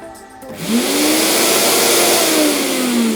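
A PROCRAFT branch shredder starts up and runs steadily, its motor rising in a pitch sweep as it spins up, then holding a loud, continuous mechanical whine with no voices.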